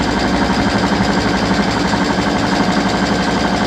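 A sewing machine runs a zigzag stitch on fabric while sewing a tractor mower sun shade, giving a continuous, close, rapid mechanical chatter with no pauses.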